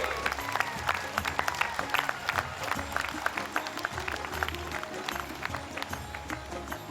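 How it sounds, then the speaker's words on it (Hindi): Steady applause from a standing crowd at a Ramlila committee event in Indraprastha, many hands clapping in a quick, even rhythm alongside a low background hum. "आपकी तालियां बजती रहनी चाहिए"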